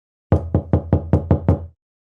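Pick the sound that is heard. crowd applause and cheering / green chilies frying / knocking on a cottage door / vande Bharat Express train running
knocking on a cottage door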